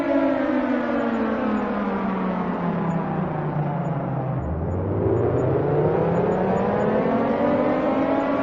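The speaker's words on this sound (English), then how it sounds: "all while the sirens blared relentlessly in the background" A World War II air raid siren wails loudly and alone, its pitch sliding down to a low growl before climbing again in a long rising sweep.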